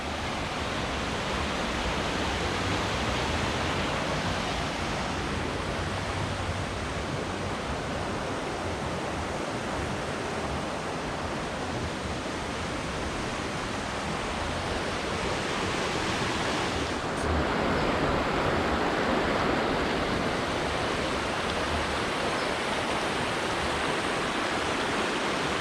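Water flows steadily in a creek beneath an old stone bridge at a mining museum, a dense, continuous rushing wash heard up close with no break for the full duration.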